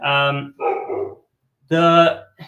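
A dog barks a few times nearby, loud and harmonic, with short pauses between the barks.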